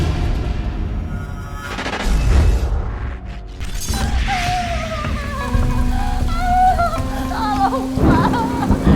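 Heavy rain pours with rolling thunder, a loud, continuous downpour hiss with deep rumbling bursts, and other tonal sounds weaving through it.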